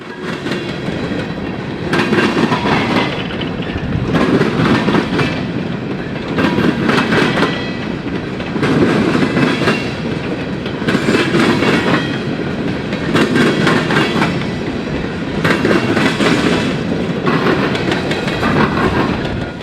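A long train of NORX coal hoppers rolls steadily past on the South Shore line in northwest Indiana, its wheels clattering over rail joints in a repeating rhythmic pattern, loud and close, with no voices.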